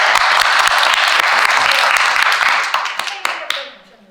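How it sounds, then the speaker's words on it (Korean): Audience applause closes an art exhibition roundtable with a critic and eleven participating artists at Project Space Sarubia: dense, loud clapping holds steady for about three seconds, then thins into scattered claps and fades out. "박수 한번 다시 한번 치죠"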